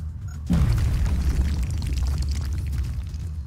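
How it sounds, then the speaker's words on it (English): A grenade detonates in the video game XCOM with a sudden deep boom after a moment of quiet, followed by a heavy, sustained rumble that slowly fades over several seconds. "I think I'll just have you chuck a grenade down"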